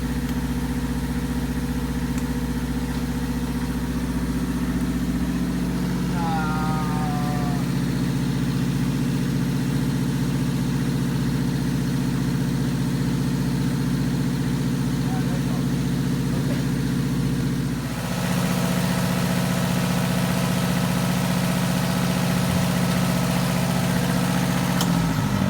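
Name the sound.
Burger motor yacht engine starting up and idling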